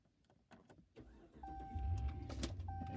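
A Ram 1500 truck engine cranks and catches, settling into a low rumbling idle after a few clicks, with a faint electronic chime.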